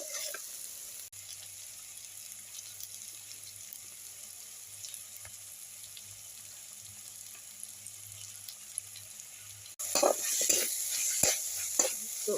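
Manchurian sauce with ketchup cooks in a pan. After a long, near-silent stretch, loud sizzling and scraping stir strokes start abruptly near the end.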